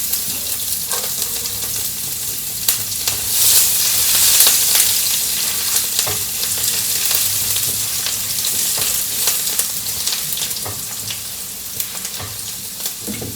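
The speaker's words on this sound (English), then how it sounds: "So you can see that the cinnamon is spluttering." Cinnamon spluttering in hot oil in a pan while cooking Anglo-Indian chicken jalfrezi, a loud continuous sizzle with scattered sharp pops and crackles, close up and with no talking.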